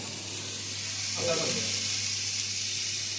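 Food fries in a pan in a home kitchen as a young cook works, a steady soft sizzle that swells briefly partway through, with faint voices underneath.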